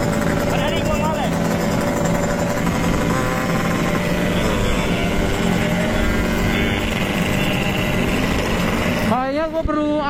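A Yamaha RX King two-stroke motorcycle roars steadily at night on Jakarta streets, a continuous buzzing engine drone with other bikes and traffic noise mixed in, ending in a brief rev change.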